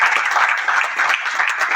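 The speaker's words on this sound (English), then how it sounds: "Big round of applause for him." A crowd applauds a pickleball champion with brisk, dense clapping, close and loud for the whole short stretch.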